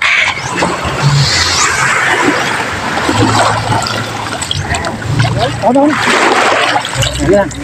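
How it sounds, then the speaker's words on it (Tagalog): A wooden fishing boat pushed by hand into the sea, with irregular splashes and sloshing water close by, under overlapping talk. "Ayan, patutulak ko na itong bangka"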